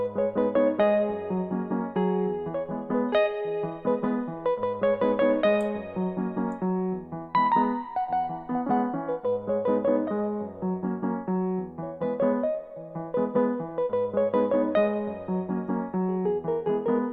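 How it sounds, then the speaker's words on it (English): Keyboard melody with chords produced in FL Studio for an Afrobeats and Highlife beat, a bright repeating phrase over steady sustained chords and low notes, playing continuously with no voices. "So I was just freestyling on my keyboard and I found a melody and I recorded it."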